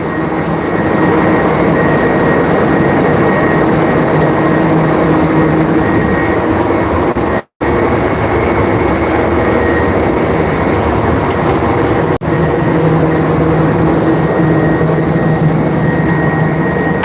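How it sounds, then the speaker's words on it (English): Four 350-horsepower industrial fans at an indoor skydiving wind tunnel roar in a loud, steady broadband rush with a faint constant hum, unchanging throughout except one brief dropout. "I got 4 350 horsepower fans."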